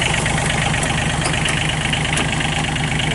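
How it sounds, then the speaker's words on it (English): A 2012 John Deere XUV 855D Gator diesel UTV engine idles close by with a steady, loud, rhythmic diesel clatter and throb that stays constant throughout, with no voices. "We'll go ahead and fire this thing up, run around, show you the motor."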